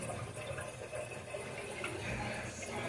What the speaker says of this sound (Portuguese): Eu dei a descarga, tem que esperar encher tudo